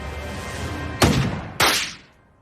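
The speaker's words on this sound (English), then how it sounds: "I distinctly remember saying no guns discharging in the classroom" Two sharp gunshots in an anime classroom scene, loud and close, about half a second apart, each bursting hard and then ringing out before the clip falls quiet.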